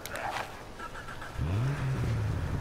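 A S.H.I.E.L.D. car engine in the Lego Marvel Super Heroes video game starts up and revs, a steady rising-then-level hum that comes in halfway after some lighter game sounds.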